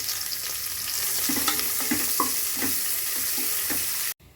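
Long-sliced onions sautéing in hot oil, a steady close sizzle with soft scraping stir strokes at a regular pace, cutting off abruptly near the end.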